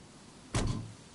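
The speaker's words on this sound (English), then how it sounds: "you need to close the door" A car door closing in the DayZ video game: one sudden thud with a short muffled tail, fairly close and brief, against quiet background noise.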